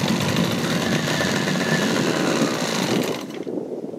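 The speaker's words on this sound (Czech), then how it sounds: "starý sovětský motor značky Vichr 30" An old Soviet Vichr 30 outboard motor on a rented boat runs with a loud, steady buzzing drone that stays close and constant, then drops off sharply near the end.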